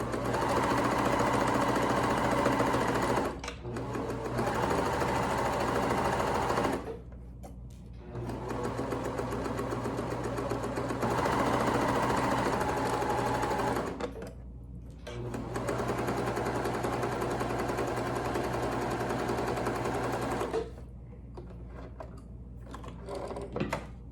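A sewing machine zigzag-stitches a fabric neck gaiter seam in rapid mechanical bursts, several runs of fast chattering separated by short pauses, close and clear.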